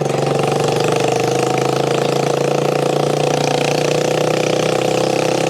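A Lifan 140cc engine fitted to a 1969 Honda CD90Z restomod motorcycle runs steadily at a low, even idle-like drone on a trail, loud and close throughout with no talk.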